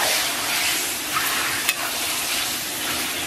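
Pork intestines are stir-fried in a hot wok with chili sauce and bean paste, a continuous loud sizzle and hiss with a few scraping stir strokes, close up and with no talking.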